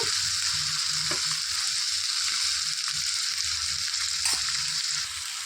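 Dried shrimp frying in hot oil in a pan for a ridge gourd curry, giving a loud, steady, dense crackling sizzle throughout, with a few soft scrapes of a spoon.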